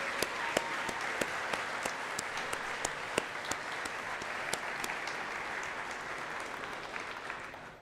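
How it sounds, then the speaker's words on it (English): A graduating class and audience at a high school awards night clap together in a fairly faint, even patter of many hands. A few sharper claps stand out, and it carries on steadily for about eight seconds before tapering off. "Let's put our hands together and give ourselves a nice loud clap"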